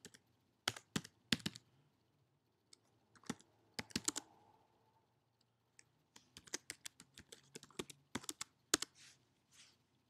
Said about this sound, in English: Then type in your username and password.